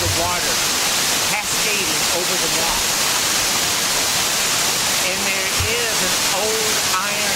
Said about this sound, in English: You can just hear the power of the water cascading over the rock